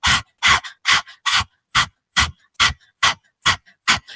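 A person pants like a dog with the tongue out, a quick rhythmic series of about eleven loud breathy huffs with short gaps between them. It is a human voice imitating a dog.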